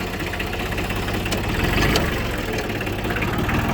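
An older tractor's engine idles steadily nearby with a low, knocking chug and constant vibration, with no voices.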